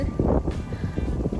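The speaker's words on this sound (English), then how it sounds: "It's very windy outside" Strong wind buffets the microphone in a steady, low rumbling roar with gusty surges, loud and close, with no speech, outdoors in Tagaytay, Philippines.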